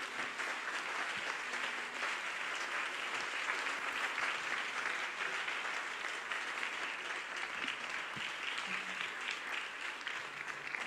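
A Sunday church congregation applauds steadily for about eleven seconds, a continuous, fairly distant wash of many hands clapping with faint voices mixed in and no clear speech.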